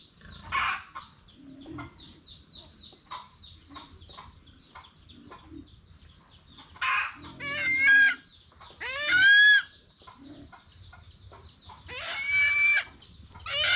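Chickens clucking with a rooster crowing now and then, mixed with soft chirps, on a Filipino farm where chicks are kept. Scattered clucks run throughout, broken by a few louder crowing bursts, fairly close, with no speech.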